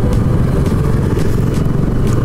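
Several motorcycles ride together in a group on a road trip toward Sandakpur, a steady close engine drone with rumble and clatter running unbroken throughout.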